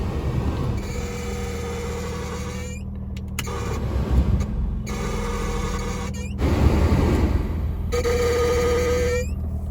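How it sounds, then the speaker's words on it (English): A BMW E36's AC blower motor with failing bearings runs steadily with a grinding, whirring hum, cycling through speed changes with brief dropouts and a faint rising whine. "that is the sound of the bearings and the blower going bad."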